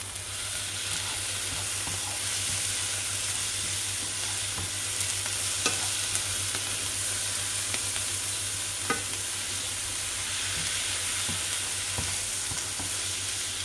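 Chopped red and green pepper and garlic sautéing in a pan, a steady close sizzle with occasional stirring clicks and pops, no voices.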